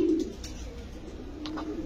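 Pigeons at a breeding farm give a soft, low coo, a brief, faint call heard on its own with no talking.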